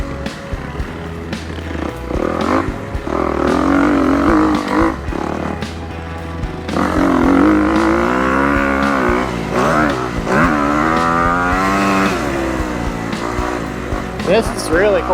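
A dirt bike rides a sand motocross track at Irondog MX in New Ulm, Texas, its engine droning and revving up and down close by, while a rider talks over it.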